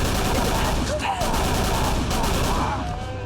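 Rapid bursts of gunfire in the Call of Cthulhu video game, loud and close, rattling steadily throughout with brief gaps, mixed with game noise.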